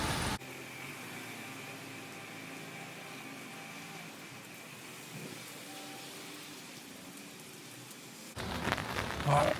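Steady rain falling outside on a wet, cold day in New Zealand, a soft continuous hiss with a faint hum beneath and a brief louder burst of noise at the end.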